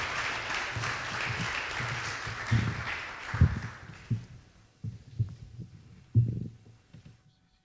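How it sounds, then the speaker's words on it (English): Audience applause at a startup incubator demo day fades within a few seconds, followed by scattered low thumps and knocks while the room settles. "Let's give them a round of applause"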